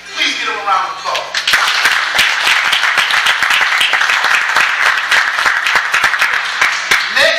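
An audience breaks into loud applause after a brief voice at the start, with sharp individual claps standing out from the sustained clapping of a fairly small crowd for several seconds.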